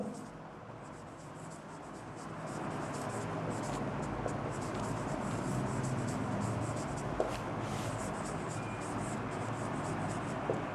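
Steady scratchy writing on a board during an English lesson, a continuous close scraping that runs the whole stretch with no talk over it.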